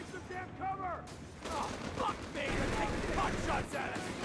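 Battle gunfire from Company of Heroes 3 as a bazooka team comes under counter-attack, with scattered bursts and rattling small-arms fire at moderate volume beneath a continuous mix of game noise.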